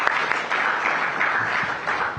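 Crowd applause at a live business awards event on a stage, a steady dense wash of clapping held at an even level throughout, with no talk over it.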